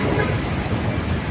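An LRT train near the MRT-7 North Avenue station rumbling past, a steady loud roar with hiss and rolling rail noise, brief and continuous.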